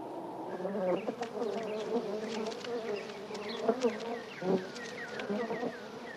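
A honeybee buzzes close by, its wavering drone rising and falling as it moves, with faint chirps in the background.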